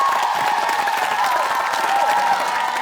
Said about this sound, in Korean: 다시 한번 더 경이로운 박수가 필요합니다